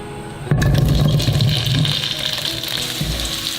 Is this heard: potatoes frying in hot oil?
yes